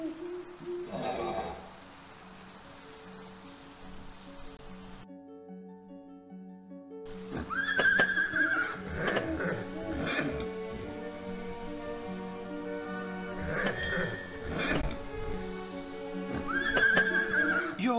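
A horse in the video game Endless Fables: Dark Moor neighs and whinnies loudly in several sharp bursts against a rain-soaked backdrop, with a sustained musical drone underneath and a brief silent gap early on.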